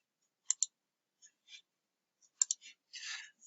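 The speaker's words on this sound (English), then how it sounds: "click the print button," Computer mouse buttons click in quick pairs and singles, crisp and close, with a few faint softer taps and rustles between them in an otherwise quiet room.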